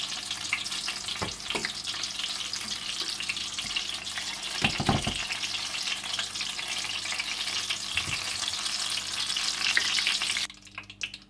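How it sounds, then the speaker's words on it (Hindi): Chilies frying in a pan give a steady, close sizzle throughout, broken by a few brief clatters of stirring and a sharper crackle near the end; no one speaks. "और इसी तरह से आप सारी मिर्चों को फ्राई कर लें।"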